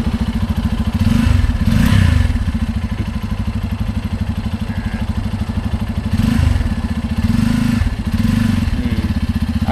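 A motorcycle engine runs steadily, rising in two louder revving surges as the rider pulls away, with a constant low throb throughout and no talk.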